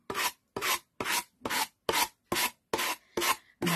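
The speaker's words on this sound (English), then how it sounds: "the thicker the card, the more sanding you're going to have to do" Cartridge paper being sanded on MDF, nine even back-and-forth rasping strokes in a steady rhythm, close and clear with no voices.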